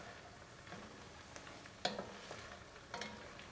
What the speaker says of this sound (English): This is going to just saute for another minute or so,